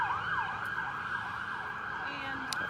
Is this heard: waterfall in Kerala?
no